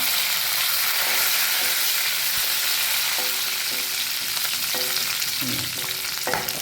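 Curry leaves tempering in hot oil with urad dal and chana dal, for a Karavali-style dill leaf and green gram stir-fry, give a loud, steady, close sizzle with occasional stirring scrapes and pops. No one speaks.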